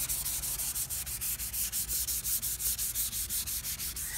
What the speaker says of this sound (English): this is sanding off of that third layer.